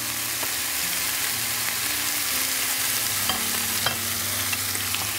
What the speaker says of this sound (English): No oil, straight into the hot pan and again a wonderful sizzle and the addition of some lemon.